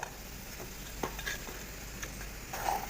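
Crab pieces with chopped bottle gourd and turmeric stirred in a pan, a soft low sizzle with a few spoon scrapes and taps, close but quiet, no voices.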